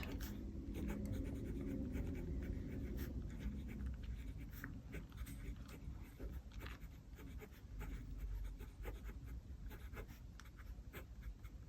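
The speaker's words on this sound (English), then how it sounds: "So let me write what this pen is." Fine steel fountain pen nib scratching across paper in continuous strokes with small taps and pauses, close and fairly quiet, with no talking.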